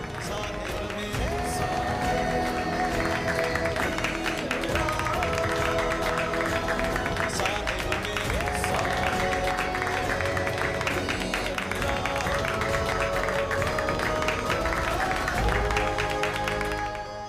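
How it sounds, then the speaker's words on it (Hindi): Crowd clapping in a Hindi TV serial scene, dense continuous applause from many people with some cheering, steady and loud throughout, speech faintly mixed in. "बजाओ ताली"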